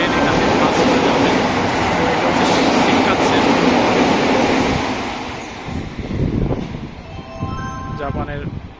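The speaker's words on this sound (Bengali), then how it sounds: "জাপানের দ্রুতগামী একটি ট্রেন মাত্র চলে গেল প্ল্যাটফর্ম।" A fast Japanese train rushes through a station platform in Tokyo, a loud sustained roar with wind and rail noise for several seconds that then fades, followed by lighter station sounds and a few faint beeps.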